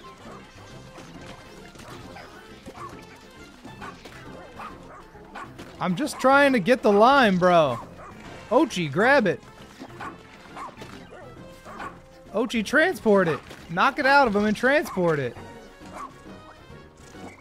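A dog barks repeatedly in the video game Pikmin 4, loud yipping bursts in two clusters mid-clip amid game sound effects, while a player talks over much of it.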